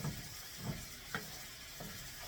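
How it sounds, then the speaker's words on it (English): Butter and flour cook together in a pan as a roux for white gravy, giving a soft steady sizzle with a few faint stirring scrapes, close and quiet, with no talking. "So I'm just going to coat the flour with butter."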